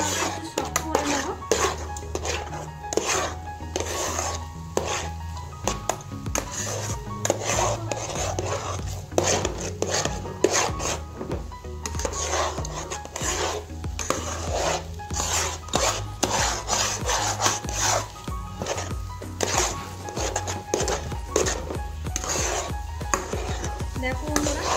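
Semolina stirred and pressed in a kadai for gulab jamun, giving continuous close scraping and rubbing strokes of a spoon against the pan in a busy, irregular rhythm for the whole stretch, with occasional light taps.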